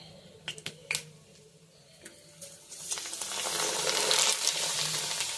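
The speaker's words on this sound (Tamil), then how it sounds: "அப்பளம் பொரிக்கலாம்." Scattered crackles and pops at first, then a loud, rising hiss of papad sizzling and frying in hot oil, close by and continuous.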